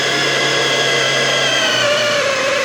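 Electric mixer motor working apple pie dough, a loud, steady close whine and drone that holds for the whole stretch, its pitch shifting slightly as the motor labours and slows while the dough comes together.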